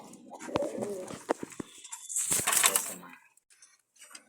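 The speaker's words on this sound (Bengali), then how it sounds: "সুন্দর দুটো বাচ্চাও কবুতর আছে।" Pigeons at a rooftop coop in sunlight, including two young birds, give soft cooing and wing flutters close by, with clicks and knocks and a brief faint voice among them.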